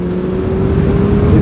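A Suzuki Bandit motorcycle engine pulls hard and revs up loud and close, its steady drone rising slightly, with wind noise around it.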